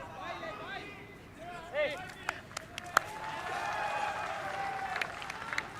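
A football stadium crowd at a Cambodia versus Malaysia group-stage match swells into cheering and scattered applause, a broad roar building beneath a commentator's voice.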